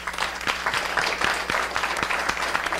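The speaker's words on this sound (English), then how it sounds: "So let's give another round of applause." An audience claps after a talk in a speaker series. The applause is dense and steady from a crowd indoors, with distinct sharp claps standing out through the wash of sound, and it keeps going without fading.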